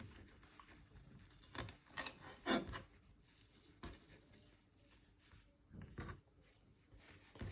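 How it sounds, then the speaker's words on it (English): Curly parsley stalks being trimmed, with quiet, scattered snips and soft rubbing and patting of the herb on a board, close but faint, in irregular bursts with pauses between. "you want to get some curly parsley and you just want to trim the stalks"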